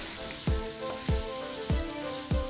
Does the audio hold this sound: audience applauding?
no